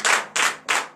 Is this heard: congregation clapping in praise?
yes